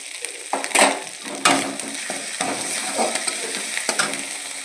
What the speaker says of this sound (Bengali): মশলাটা তেল কাটতে শুরু করেছে ভাজা ভাজা হয়ে গেছে